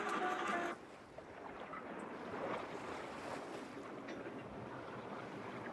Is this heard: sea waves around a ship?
yes